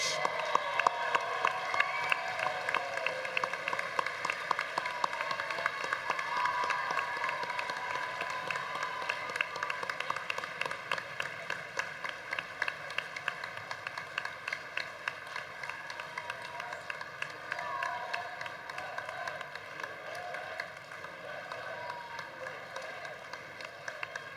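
Sustained applause with scattered cheering from a large crowd at a World Transplant Games closing ceremony, steady clapping texture carrying through the whole stretch, fairly loud and continuous with no clear speech on top.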